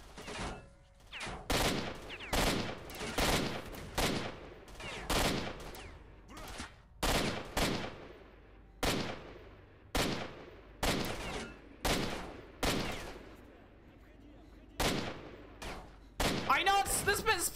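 Pistol gunfire in the shooter game S.T.A.L.K.E.R. Shadow of Chernobyl: a long string of sharp, separate shots fired at a steady, roughly one-per-second pace, each followed by a brief decay, with a quicker burst near the end.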